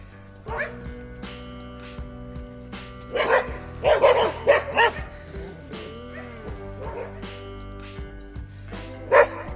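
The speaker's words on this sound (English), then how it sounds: "all the dogs here are behind fences, so it's pretty safe for hikers" Dogs behind fences along a hiking trail near Verona bark and yip in scattered loud bursts, several overlapping, with whimpers between them and a voice talking underneath.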